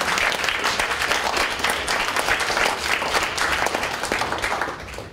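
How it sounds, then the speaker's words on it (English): A student panel audience gives a dense, steady round of applause from many hands, filling the room evenly before tapering off at the very end. "if we could give everyone a big round of applause"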